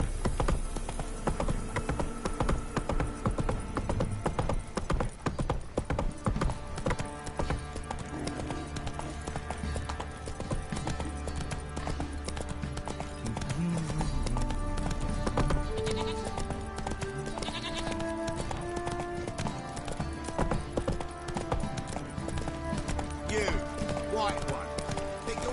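A horse in The Witcher 3 trots at a brisk, steady clip-clop of hooves, with occasional snorts, game music and a voice talking over it throughout.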